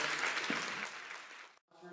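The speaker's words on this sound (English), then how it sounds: "let's give this great panel and great moderator a round of applause" Audience applause for a business panel and its moderator at a chamber of commerce event, a dense wash of clapping that fills the room, then cuts off abruptly before a voice speaks briefly at the end.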